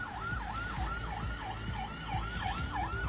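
Fire truck siren wailing in a steady repeating up-and-down sweep as the engine pulls out near Peñuelas on route 68, loud and close over a low rumble of traffic.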